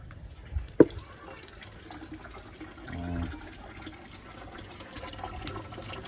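Water runs into a used plastic water gallon being filled for a homemade hydroponic setup, a soft steady trickle with a short louder gush midway and a sharp knock early on, no voices.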